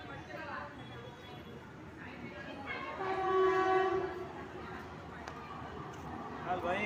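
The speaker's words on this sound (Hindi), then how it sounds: "प्लेटफॉर्म क्रमांक 2 के किनारे से दूर खड़े रहिए, एक जलद गाड़ी जाने वाली है" An express train passes a station platform and sounds a loud, sustained horn, with rolling rail noise beneath and a platform public-address announcement voice over it.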